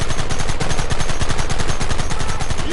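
Rapid gunfire in the Western video game Red Dead Redemption, a loud, dense stream of overlapping shots with no pauses, close and continuous.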